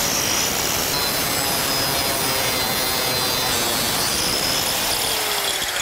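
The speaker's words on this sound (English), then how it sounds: "This is why we use the continuous rim diamond blade for tile, because it cuts and melts at the same time" An angle grinder fitted with a continuous rim diamond blade cuts tile backed by rigid foam, giving a loud, steady, close whining roar that runs unbroken throughout without any speech.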